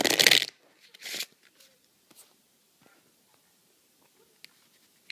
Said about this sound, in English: I'm going to give this a bunch of shuffles.